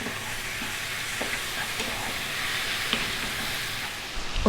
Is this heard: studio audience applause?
no